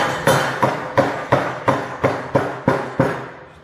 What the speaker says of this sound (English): Tap that first bushing in.